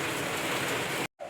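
A brief rain shower falls outdoors, giving a dense, steady hiss that holds evenly and then cuts off abruptly.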